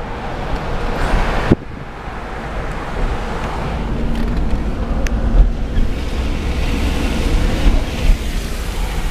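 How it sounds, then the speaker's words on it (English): Floodwater runs off heavily during a flood near sandbags, giving a continuous loud rushing wash with gusty wind buffeting the microphone throughout. "A lot of water. Holy cow. It's still just running off."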